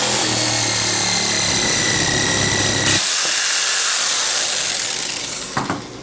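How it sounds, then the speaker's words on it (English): A jigsaw cuts a curved line through an Azek Vast composite paver on a grid, a loud, close, continuous buzzing rasp that drops in tone halfway and then winds down. "simply using a jigsaw to make your radius cut right on the grid work"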